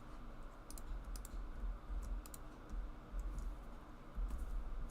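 Computer keyboard keys clicking in quick irregular bursts as a terminal command is typed, fairly faint over a steady low hum of background noise.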